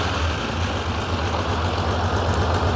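1983 Honda CBX 1000 Pro Link six-cylinder motorcycle engine idling warm, a steady low rumble held close and even throughout, with no talk.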